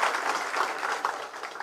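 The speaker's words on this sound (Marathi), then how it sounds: "आपण जोरदार जरा टाळ्या वाजवून त्यांचं स्वागत करावं." A crowd at a BJP party-induction rally in Vibhutwadi welcomes new members with loud, sustained applause, a busy, even patter of many hands clapping throughout.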